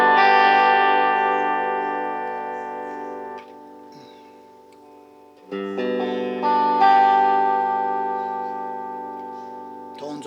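Donner DST 102W electric guitar played on the bridge pickup through an amp with moderate gain: sustained strummed chords ringing out and decaying, a brief quiet gap, then more chords, clear and up close.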